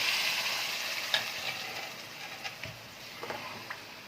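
Vegetables sautéing in a pot for rice with béchamel give a steady close sizzle, broken by soft scraping strokes as they are stirred, with no talk.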